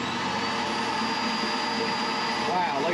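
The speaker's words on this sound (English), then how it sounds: "let's add in the vacuum" A vacuum cleaner drawing power from a Honda EU32i portable generator gives off a steady, loud broadband motor whine that holds constant throughout, mixed with the generator's running drone.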